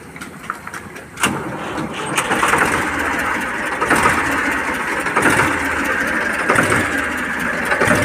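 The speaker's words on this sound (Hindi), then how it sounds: "मैं जो है ट्रैक्टर की आपको स्टार्टिंग दिखा रहा हूँ" A modified Ford 3600 tractor engine cranks and catches, settling into a loud, rough diesel idle with rhythmic knocking, close by.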